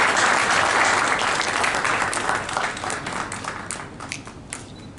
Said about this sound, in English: A big applause for him.